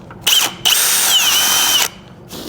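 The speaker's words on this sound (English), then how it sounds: "I just take a drill bit and I just usually round it out" A power drill runs a bit through a small hole to widen it while fitting a 4.5-inch stretched CVO rear end kit, two sustained high whining bursts with a brief pause between, close and loud with no talk.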